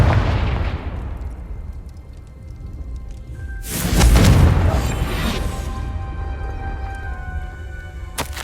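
Confringo explosion spell in Hogwarts Legacy: a booming blast that swells in the middle and leaves a rumbling, crackling tail fading to a low background.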